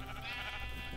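Sheep bleating in the Minecraft video game, a short tonal bleat sounding alone and fairly steady through the brief moment.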